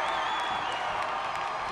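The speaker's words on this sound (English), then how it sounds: "Kunle Ayinde firing up the Bengal crowd up big" Steady roar of a high school football crowd cheering for the Blaine Bengals, a broad sustained wash of voices and whoops heard at a distance throughout.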